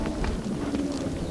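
Hooves of a ridden dressage horse at the trot strike in a quick, even rhythm on an arena surface, moderately near and fairly soft.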